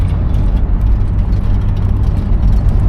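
A 1972 Buick LeSabre's engine runs steadily while the car drives at around 20–25 mph, a loud, continuous low rumble with road noise and no breaks across the few seconds.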